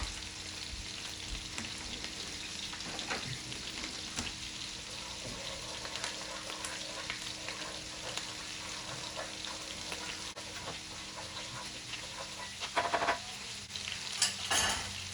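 Crushed garlic frying in oil in a pan while being stirred, a continuous sizzle with scraping and clinks of the utensil against the cookware, louder stirring knocks near the end.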